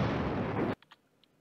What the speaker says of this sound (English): so we have an airstrike